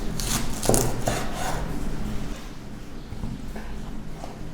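A knife cuts a bamboo shoot into four pieces, several sharp thunks at the start, then faint scraping and handling.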